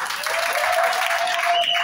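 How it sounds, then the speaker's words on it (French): A church congregation at a French-language service breaks into applause, a dense, steady wall of clapping that holds at full strength for about two seconds with no pause. "Est-ce qu'on peut les acclamer?"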